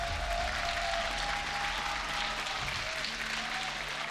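A live esports crowd at a League of Legends EU LCS match between G2 Esports and Splyce applauds in a steady, dense wash of clapping and cheering that holds throughout without fading.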